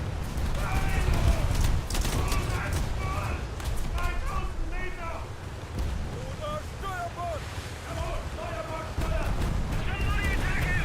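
Gunfire from ships in a naval video game crackles in rapid bursts over a constant sea-and-wind wash, while a person talks throughout over the shots.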